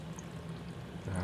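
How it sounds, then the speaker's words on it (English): Water pours steadily through a basement aquaponics setup, trickling from a bucket of pebbles down a tube as it cycles back toward the pump; a continuous close, moderate flowing wash that swells slightly at the end. "Once the water reaches a certain height, it starts flowing down this tube"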